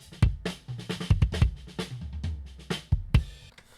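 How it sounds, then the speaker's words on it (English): Dry, close-miked kick drum with a boxy, mid-heavy tone: a string of punchy hits in an irregular rhythm, each short and up front, recorded alone with faint spill from the rest of the drum kit. "Not the worst kick capture, but super duper mid-rangey."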